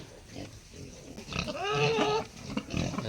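Pigs on a pig farm grunt and squeal at close range, with a strong tonal squeal in the middle and lower grunts before and after.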